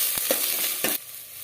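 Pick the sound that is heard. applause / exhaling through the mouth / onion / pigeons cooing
onion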